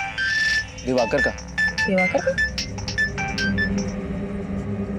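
A phone ringtone plays steadily in the background while people talk over it close by.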